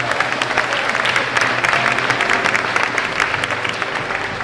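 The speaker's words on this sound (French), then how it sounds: "Acclamez Jésus encore une fois" A church congregation applauds during an evangelical Sunday worship service in Haiti, a steady, dense wash of clapping from many hands that stays loud and even throughout.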